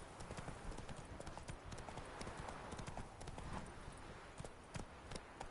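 Video-game horse Roach trots along with a steady, rhythmic clip-clop of hooves, heard at low level with faint background ambience.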